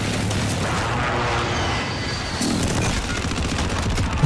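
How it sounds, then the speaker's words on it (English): Airstrike explosions in Call of Duty Modern Warfare rumble as a dense, continuous barrage mixed with rapid gunfire, loud and close, swelling slightly midway with no voices. "Allied precision airstrike incoming"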